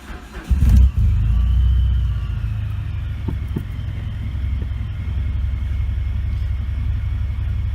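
A supercharged Mitsubishi Eclipse with a 2.4L 4G69 engine fires up with a loud burst, then settles into a steady, deep, rumbling idle that runs on close by, with no talking.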